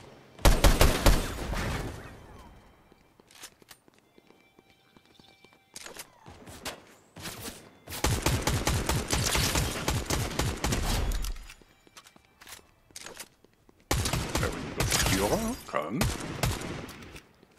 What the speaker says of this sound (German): Hier bei mir vorne wird geschossen